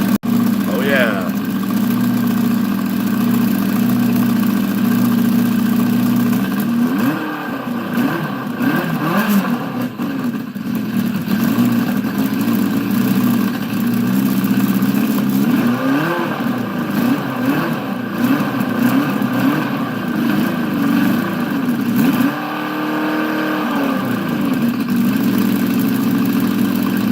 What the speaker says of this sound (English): That's what the Yamaha sounds like with hollowed out exhaust.